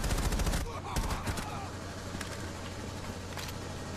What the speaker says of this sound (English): Somebody has a machine gun.